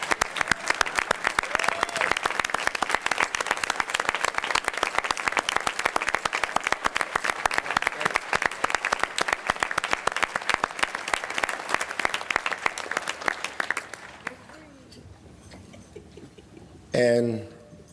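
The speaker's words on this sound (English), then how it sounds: "So can we all give them a round of applause?" Sustained round of applause from a large audience at a conference gala, dense and even for about fourteen seconds before abruptly dropping to quiet room murmur, with a short burst of talk near the end.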